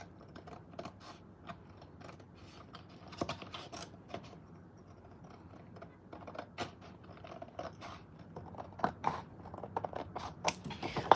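A paper party favor insert for slime kits being cut by hand with scissors, a quick series of close, crisp snips and crunches, irregular and getting busier toward the end, without any talking.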